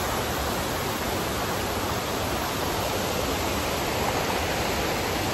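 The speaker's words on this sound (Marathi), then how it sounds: "12 महिने वाहणारा धबधबा आहे." The Devpat waterfall in the Konkan, which flows year-round, roars as a dense, constant broadband rush of falling water, loud and close with no break and no voices.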